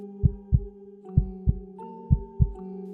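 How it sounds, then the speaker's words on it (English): Heartbeat sound effect for a pounding heart during a frantic escape, heard as repeated low, thudding double beats in a steady rhythm over a faint hum, close and alone. "her heart pounding in her chest"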